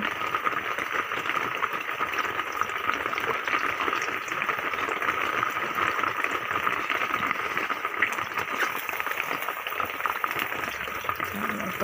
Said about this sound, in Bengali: কড়াতে দিয়ে দিলাম তেল, দিয়ে দিচ্ছি ডিমগুলো সিদ্ধ করে